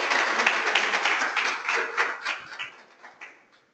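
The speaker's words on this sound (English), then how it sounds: "So can we give her a round of applause?" An audience claps for a presenter at a business speaker series event, a dense burst of many hands that stays strong and then thins out and fades over a few seconds.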